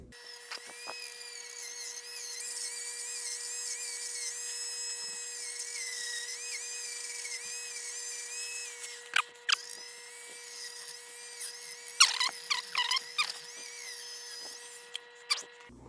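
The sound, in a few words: rotary tool sanding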